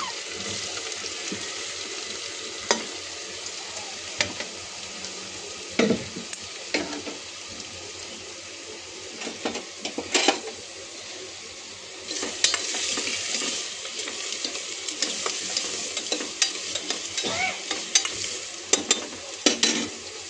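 Onions for pav bhaji frying in a pan, a continuous soft sizzle with frequent spoon scrapes and clicks of stirring, moderately quiet and close.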